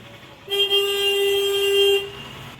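A single long car horn blast, held steady for about one and a half seconds, loud and fairly close over low traffic rumble.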